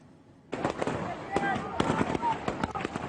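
Gunshots crack out during violent clashes between the army and a crowd of Islamist protesters two days after a coup in Egypt: sharp, irregular bangs in quick succession over a loud, noisy crowd.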